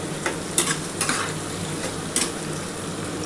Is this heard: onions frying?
yes